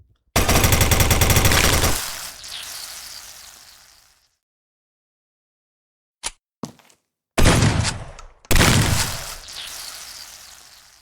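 Bursts of rapid automatic gunfire and impact hits from the arena shooter Templar Arena, including shots landing on an armored player: a loud sustained volley that fades, then several short sharp cracks and two more heavy bursts.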